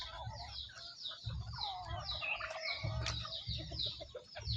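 Free-range country chickens cluck steadily across an open farm yard, a dense overlapping chorus of hens at moderate distance with no voices.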